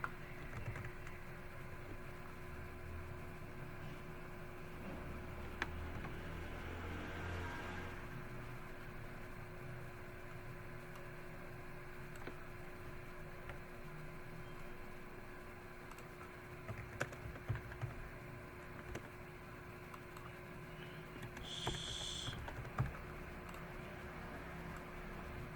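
Steady, fairly faint keystrokes on a computer keyboard while C# code for a car racing game is written, ticking on through a low background hum with a few sharper clicks near the end.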